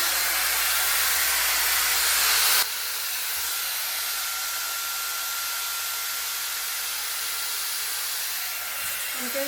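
A Shark Glossi hair dryer set to medium heat and medium airflow blows a loud, steady hiss close up. The roar drops slightly after a few seconds and then holds even, with no talking.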